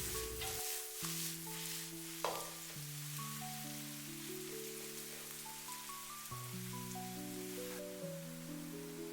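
King oyster mushrooms stir-frying in oil in a wok, giving a steady dense sizzle throughout, with clinks and scraping from stirring and musical tones playing over it.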